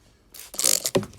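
Rain-X glass treatment being sprayed onto a thrift store item: a short, close, hissing spray burst with a faint rattle, followed by a brief thud.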